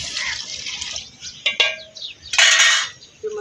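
Water is poured into a cooking pot of lentils: splashing, trickling pours in short bursts, with a strong gush late on and faint kitchen clatter, close and loud with no talk.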